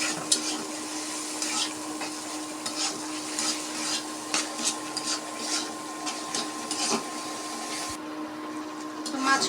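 Onion and fish curry spice paste with ginger-garlic paste fries in a pan, giving a continuous soft sizzle with scattered scraping stir clicks over a steady background hum.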